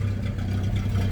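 A Datsun 620 pickup engine, hotwired, running steadily at a low idle, a close, continuous throaty rumble with no talking.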